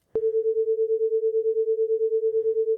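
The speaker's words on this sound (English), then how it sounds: "when we have a difference of 9 Hertz, we create the wobble sound" A binaural beat tone panned wide left and right holds one steady pitch with a regular, fast pulsing wobble, clean and alone after a sharp onset.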